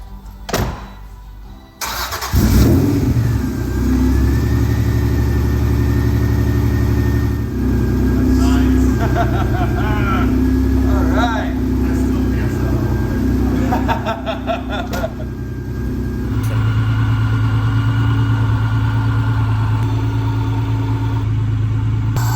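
A 1992 Honda NSX fitted with a Comptech supercharger kit cranks, fires and settles into a steady idle close by, with small rises in revs, a lower droning idle near the end and a voice briefly heard.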